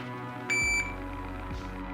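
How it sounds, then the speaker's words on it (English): A packed shot timer with tape over its speaker gives one short, muffled electronic beep over a low steady hum, with no talk. "This is a packed shot timer with tape placed over the speaker to soften its volume."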